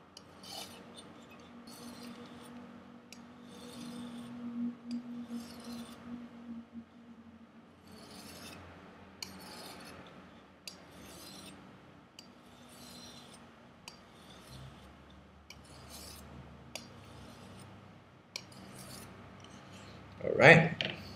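A kitchen knife being sharpened with green compound, a quiet repeated rasping and rubbing with a soft rhythm and one louder scrape at the end.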